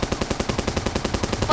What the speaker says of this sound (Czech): Má automatickou zbraň a střílí po nás.